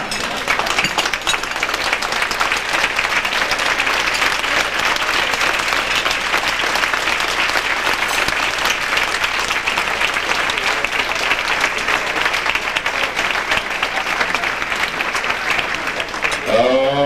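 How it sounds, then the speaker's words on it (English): A standing audience gives the Sisters of St. Joseph a sustained, dense round of applause at an honoring event, steady and loud for the whole stretch without speech. "stand up and give the Sisters of St. Joseph a round of applause."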